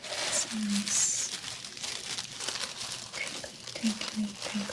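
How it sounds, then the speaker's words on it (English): Crinkly paper crumpled and handled up close while cooking Caribbean curry, soft rustling crackles in irregular bursts, with quiet speech and light taps under it. "crinkly paper here. Let's put this paper here."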